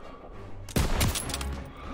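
Gunfire in the World War II shooter Call of Duty WWII, one sharp, loud blast with a sudden onset, trailed by a dense rattling burst and a rumbling decay over a steady battlefield background.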